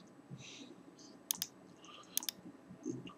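Two sharp pairs of computer mouse clicks sound close up during video editing, each a quick double snap over faint room hiss and soft background noise.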